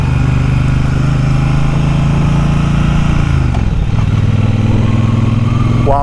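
A Triumph Bonneville Speedmaster motorcycle engine runs loud and close with a deep, bassy tone, holding steady then dropping and rising again as it is revved, with no talking over it.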